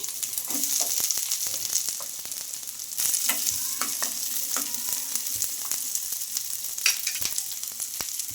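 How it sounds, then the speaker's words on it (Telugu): Chopped onions sizzle steadily in hot oil in a kadai, a continuous close frying hiss with scattered crackles and a few stirring clinks throughout, no talking. "ఆయిల్ కూడా హీట్ అయిందండి ఇంకా ఇప్పుడు ముందుగా చిన్నగా కట్ చేసుకున్న ఉల్లిపాయ ముక్కలు అయితే వేసుకోవాలి"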